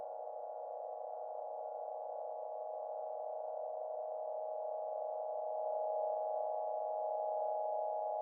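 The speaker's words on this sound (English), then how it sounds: "Feedback is up so high, it's called self-oscillating." A steady, sustained tone from self-oscillating feedback on an Ableton Live Wavetable synth pad holds at an even, unchanging pitch for the whole stretch, loud and alone with no talk.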